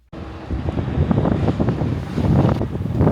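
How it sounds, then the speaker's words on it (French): Loud rumbling gusts buffeting the microphone in Cody, Wyoming, a continuous low roar that swells and surges without any voices. "Ouais, il y a un peu de vent, ouais."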